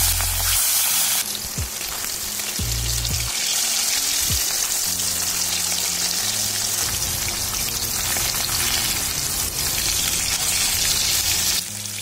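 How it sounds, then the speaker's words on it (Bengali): Fish fry in hot oil in a kadai, giving a continuous, dense crackling sizzle that holds steady from start to finish, with faint low tones in the background and no speech. "এবার আমি এক এক করে মাছগুলো ফ্রাই করে নেব।"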